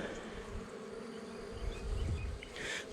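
Honey bees buzz at an open hive in a quiet, close, continuous drone, with individual bees swelling louder as they pass near.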